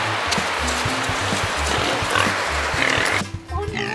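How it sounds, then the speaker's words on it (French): Wild pigs grunting and snorting in a rapid rhythmic series close by on a road trip toward Piana, loud over a rumbling background, with a voice audible near the end. "Vous avez déjà rencontré un cochon sauvage comme ça?"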